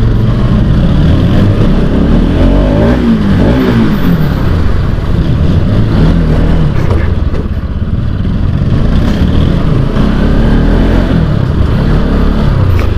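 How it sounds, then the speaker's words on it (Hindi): A motorbike engine drones loudly and continuously at close range in narrow lanes, its pitch rising and falling slightly as it revs through confined surroundings. "इन गलियों में जो अपनी बाइक का साउंड आ रहा है ना भाई"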